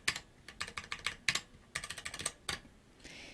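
A computer keyboard clacks as a card number is typed in, with quick bursts of key presses broken by short pauses. The tapping is close, light and quiet, and no other sound is heard.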